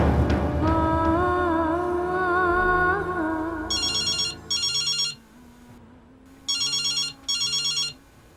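A telephone rings in two pairs of short electronic bursts, each pair followed by a pause, sounding alone after a fading musical phrase in a domestic setting.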